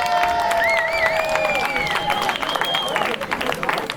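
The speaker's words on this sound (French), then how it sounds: "On peut applaudir ceux qui ont aimé quelqu'un à Bécourt" Audience applause at a regional gathering, with clapping and crowd noise sustained throughout while voices and whistles or cheers rise over it.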